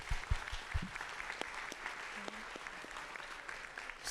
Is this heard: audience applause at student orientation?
yes